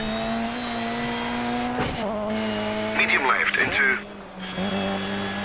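A Ford Escort rally car engine in the Dirt 3 racing game holds a steady, buzzing high-rev drone, dropping briefly at two gear changes, with a burst of tire scrabbling and skidding midway.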